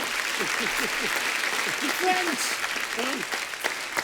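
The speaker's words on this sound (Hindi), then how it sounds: "आप सबकी जोरदार तालियों के बीच प्लीज वेलकम वेरी टैलेंटेड मुक्ति मोहन।" A studio audience on a television comedy show applauds a guest's entrance, with dense, continuous clapping at a fairly loud level and a host's voice talking over it.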